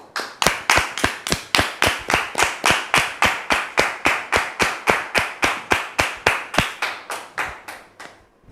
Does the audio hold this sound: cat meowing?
no